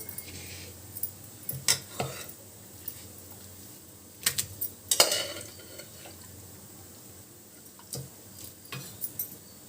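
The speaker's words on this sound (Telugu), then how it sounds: "కుండలోకి తీసుకొని రుద్దుకుందాము" Boiled sorrel leafy curry is mashed in a clay pot, sparse knocks and scraping rubs with a few sharper clicks, close and fairly quiet, with pauses between strokes.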